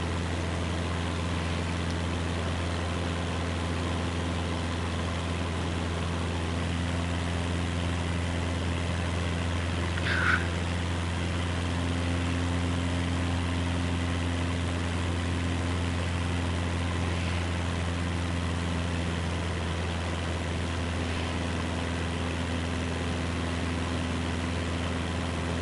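A propeller airplane engine drones steadily in Flight Simulator 2024, a constant low hum with strong tonal bands and no pauses, heard alone for about twenty-five seconds.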